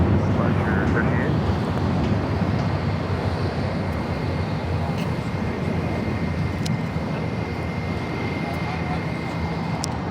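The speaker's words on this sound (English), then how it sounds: "That was JetBlue Airways Flight 1388 heading to Boston at an A321." A JetBlue Airways Airbus A321 departs Los Angeles LAX toward Boston, its jet engines a broad continuous roar with wind buffeting, steady and fairly loud throughout.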